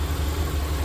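A rebuilt 2002 Subaru Impreza wagon engine idles steadily up close, its low, even rumble holding constant with no voices present.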